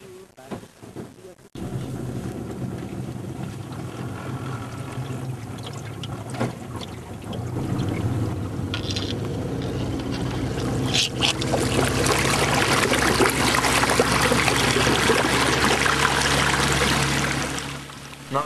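Small boat with a guide and other travellers heading across an Amazon river near Manaus toward a lakeside camp, a steady engine and water rush building after a brief quiet start and running continuously, with some voices underneath.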